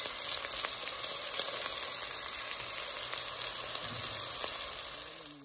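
Garlic and ginger fry in a hot pan with a loud, dense, continuous sizzle heard up close, which tapers off at the very end. No one speaks.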